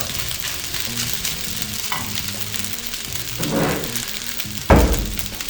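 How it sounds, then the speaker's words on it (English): Fried rice sizzling in a hot pan while a spoon breaks up chunks, a steady fry with scraping stirs and a couple of louder knocks of the spoon against the pan near the end. "You can see there's some chunks of rice. You just break them up with a spoon."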